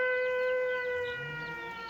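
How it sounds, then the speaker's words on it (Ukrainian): An air raid siren wails with a steady, sustained tone heard from a distance, slowly fading slightly, with no voices over it. "Увага! Повітряна тривога."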